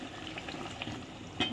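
Spices fry in oil inside a kadhai for a dal amti, a steady close crackling sizzle with small pops and one louder spit near the end.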